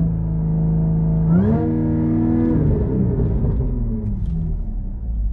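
An Audi B8/8.5 S4 or S5 with the 3.0T supercharged engine running 034Motorsport launch control holds steady revs, then steps up sharply to a higher hold and drops back, a loud continuous engine drone with no talk.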